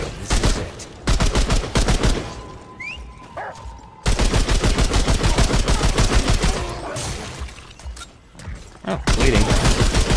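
Rapid bursts of gunfire from a newly acquired gun in the video game Remnant II, loud repeated volleys, with a short pause partway through and then sustained firing.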